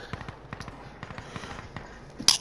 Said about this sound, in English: Sounds like shots north as well.